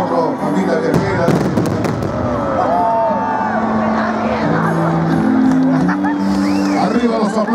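Fireworks at the lake festival in El Calafate, Argentina: a loud burst of booms and crackles amid crowd cheering and whoops, with a voice talking over the continuous festive din.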